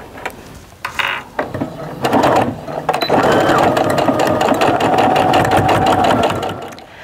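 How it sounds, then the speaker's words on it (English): A sewing machine stitches a tote bag's handle seams with a 1/8 inch stitch, reinforcing them. A brief start comes first, then a loud, steady whirring run continues for several seconds before stopping. "when you sew, you can just flip your handle back, start a little bit before and end a little bit after, reinforcing those seams"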